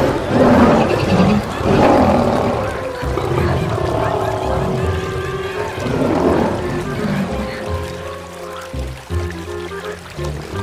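A cartoon lion roars, long and rumbling, as it comes to drink at a river, with a lower growling tail and a watery backdrop; loud and close, fading into calmer tones toward the end.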